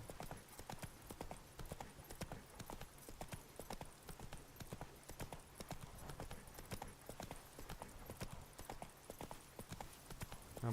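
Horse hooves clip-clop steadily throughout while riding in a video game, a fast, even rhythm of close, crisp hoofbeats running the full length with no talk.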